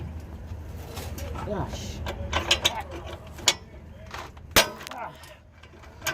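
A hand ratchet works against a tight bolt on an Infiniti Q50 Y-pipe, giving a few sharp metallic clicks and clunks spaced irregularly, with faint vocal sounds in the background.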